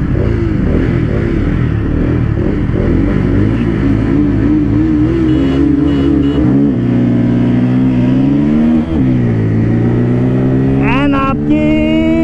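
A 2023 Bajaj Pulsar NS200 BS7 and a Pulsar N250 accelerate hard in a drag race, engines revving loud and close and climbing in pitch through gear changes, with a brief voice near the end.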